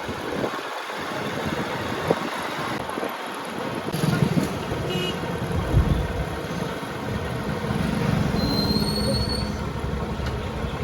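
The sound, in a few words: train passing on railway route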